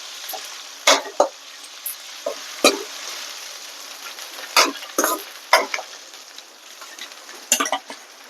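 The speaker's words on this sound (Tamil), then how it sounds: "நம்ம இஞ்சி பூண்டு பேஸ்ட்டு போட்டுக்கலாம்." Ginger garlic paste sizzles with golden fried onions in hot oil for a prawn thokku, a soft constant frying hiss broken by scattered clinks and scrapes of a spoon stirring the pan.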